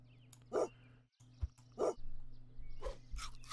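Cartoon dog barks from the Super Auto Pets video game, three or four short, clear yaps spaced about a second apart over a low game hum.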